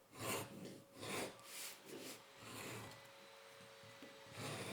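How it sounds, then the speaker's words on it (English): A stitch groover scrapes a groove into a leather gusset in short rhythmic rasping strokes, quiet and close, several passes in a row with no talking. "we're going to follow this with a stitch groover, because what we're going to do is we're actually going to reduce the thickness here"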